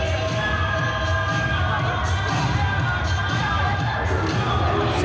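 Spectators at a Black Ferns vs Wallaroos women's rugby Test in the 2024 Pacific 4 Series keep up a steady stadium roar, a broad, continuous wash of cheering and shouts heard from a distance, with faint commentary underneath.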